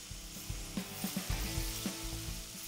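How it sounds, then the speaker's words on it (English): Cod fillets sear in melted butter in a pan, a bright sizzle under a series of soft knocks and scrapes as the fillets are pressed down. "I want to press down on them just to ensure you get a good sear on them."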